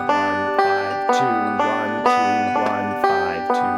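Banjo picking a Foggy Mountain roll pattern, a quick repeating cycle of bright plucked notes in steady rhythm, close and clear with no voice over it.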